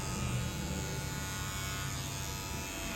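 Electric hair clipper buzzing steadily and close during a low fade haircut, a continuous even drone with no pauses.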